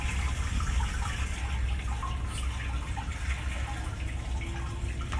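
Water runs steadily into the pot of a RapidBlast SD140 dustless blaster, a constant, moderately loud gush and splash with no breaks.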